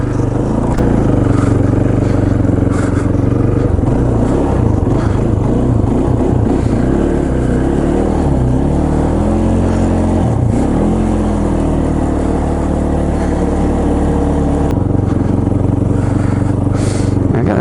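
A 2005 Polaris Predator ATV with a newly replaced head gasket and valves, ridden in second gear, its engine droning loud and close with rising and falling revs for the whole stretch.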